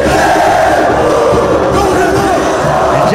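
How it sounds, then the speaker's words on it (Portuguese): Grêmio football fans at an airport loudly cheering, shouting and applauding the players, a dense close roar of voices and clapping held without a break. "O torcida ali aplaudindo ali."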